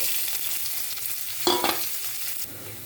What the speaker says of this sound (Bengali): কড়াইয়ে তেল দিয়েছি, রসুন দিয়ে দিলাম